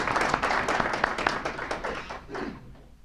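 Conference audience applauding a guest doctor, a steady burst of dense clapping across the room that tapers off toward the end.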